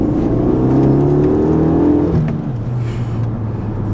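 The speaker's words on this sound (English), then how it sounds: "Here's a little cheeky little rev." Renault Megane RS engine revving up close, a loud sustained rising roar that holds and then drops back to a lower steady idle.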